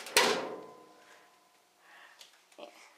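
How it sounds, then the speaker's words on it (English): A clothes dryer door slams shut with one sharp bang followed by a fading metallic ring, then soft voices and light handling noises. "Can I close the door?"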